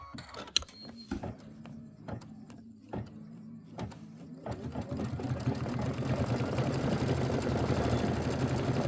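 A sewing machine stitches the border of a Kimberbell Nativity bench pillow quilt, starting with a few spaced clicks and then building into a continuous whirring run of stitching, with no talking.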